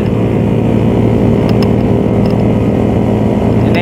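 Several motorcycles cruise together on a night ride along Jakarta's Sudirman avenue, a loud steady engine drone with harmonic hum and brief higher revving bursts from nearby bikes, continuous throughout.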